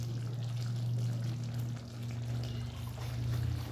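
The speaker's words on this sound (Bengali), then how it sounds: "উপর থেকে একটু ঘি দিয়ে দিলাম।" Ghee drizzled over aloo dum sets off a steady, close sizzle in the pan, a continuous crackling frying hiss over a low hum, with no voices.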